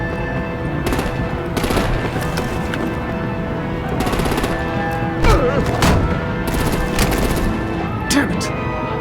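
Sustained gunfire and artillery in Batman: The Enemy Within, with rapid automatic bursts, scattered heavy booms and impacts layered over a constant dense battle rumble, loud throughout the whole stretch.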